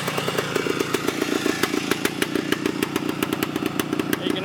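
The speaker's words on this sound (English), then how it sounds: "You can already hear the idle picking up." A 1972 Yamaha RT2 360 two-stroke motorcycle engine idles steadily and close by, its rapid popping firing pulses getting slightly quicker as the idle picks up, loud and unbroken with no voices over it.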